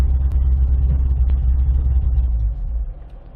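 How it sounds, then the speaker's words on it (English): A 2005 Chevy Corvette being switched off, its deep low engine rumble steady and close before easing down near the end, with the cooling fans left whirring. "I wanted to show you turning off the car."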